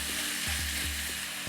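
Pork frying in a wok with gochujang sauce, a loud, dense, continuous sizzle with low rhythmic stirring thumps underneath, close up.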